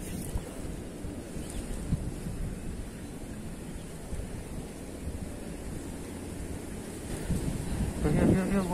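Wind blows at a fishing spot, a continuous rushing buffet with microphone rumble, steady and moderately loud, swelling slightly near the end where a voice briefly cuts in.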